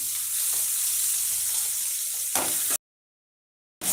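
Crushed garlic and chili hit hot oil for lemon rice, giving a loud, steady sizzle and crackle that runs close and continuous, then cuts to silence for about a second before the frying resumes.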